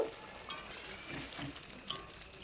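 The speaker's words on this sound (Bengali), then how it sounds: "ঢাকনা খুলে আমি আর একটু নাড়াচাড়া করে নেব" Tilapia fish curry with oil and chili being stirred in a pan, giving soft scraping and clinks over a faint, steady sizzle, with two brief sharper taps from the utensil.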